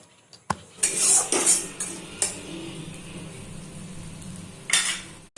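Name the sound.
stirring and frying spice paste in a pan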